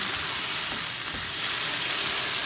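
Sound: tomato juice stirred into a sizzling pan

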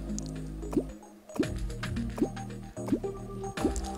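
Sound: water draining from an airlock in the video game Terraria

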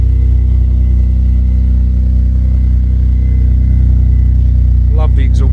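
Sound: Vauxhall Vectra GSi engine, Magnex stainless steel catback exhaust

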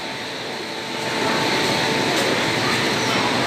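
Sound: special train to Ayodhya at Prayagraj Sangam station

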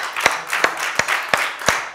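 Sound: congregation hand clapping

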